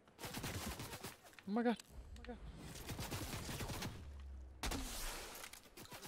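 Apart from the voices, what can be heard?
gunfire in the video game Fortnite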